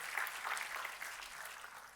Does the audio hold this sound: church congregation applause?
yes